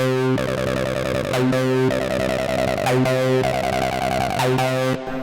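A buzzy, resonant, processed Behringer TD-3 acid bassline loops in a repeating pattern, its filtered tone sweeping and squelching, loud and steady with brief dips between phrases.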